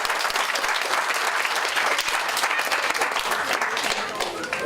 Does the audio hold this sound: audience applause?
yes